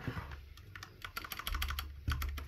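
Close, quiet typing on an IKBC Poker 2 60% mechanical keyboard with Cherry MX switches, a steady run of crisp key clicks, sometimes in quick bursts, with no voice.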